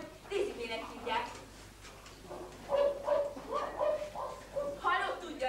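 A young Afghan hound yips, barks and whimpers in a comedy scene, a series of high, whiny bursts coming in uneven clusters, mixed with people speaking.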